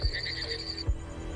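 Frogs call at night in Kakadu during the wet season, with a couple of low croaks and a steady higher trill over soft ambient noise.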